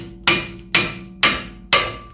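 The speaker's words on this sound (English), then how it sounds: "I have an impact hammer, and these I can just grab it and turn it counterclockwise and hammer on it." Four sharp, loud metallic strikes from an impact hammer used to loosen the rotor screws on a 2012-2015 Honda Civic during a brake job, evenly spaced about half a second apart, each ringing out briefly with no talk.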